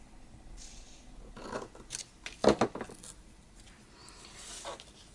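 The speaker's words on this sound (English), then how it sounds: "just kind of tear and just rip this a tad in different angles" Paper being torn and ripped by hand for a junk journal tag, a few short crisp rips and crackles, close and quiet, in a small burst with near silence before and after.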